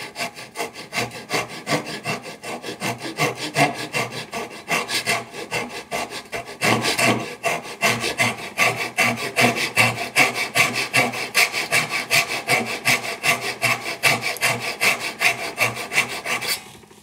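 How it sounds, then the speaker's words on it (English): A hand saw cutting wood in quick, even back-and-forth strokes, rasping steadily and close up, with no talking. "start sawing away the draw front"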